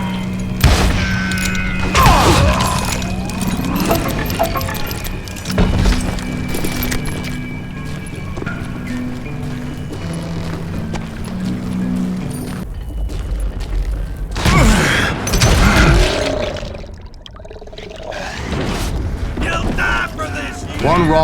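Explosions in the Call of Juarez Gunslinger video game, several heavy booms and thuds spread through the stretch with rumbling debris after each, over a busy game soundtrack and narration.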